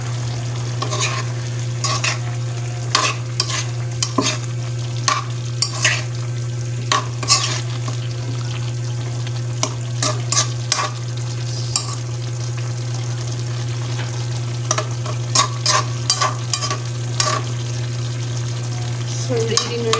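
Sweet and sour chicken adobo with pineapple is stirred in a pan for a long stretch, a low simmer underneath and frequent utensil clinks and scrapes breaking in at irregular intervals.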